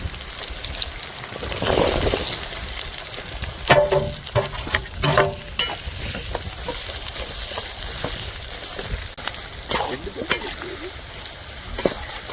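Sliced onions hit a hot pan for a Kerala Wayanad duck gravy, bursting into a loud sizzle followed by crackling and stirring clinks that settle into a steady fry.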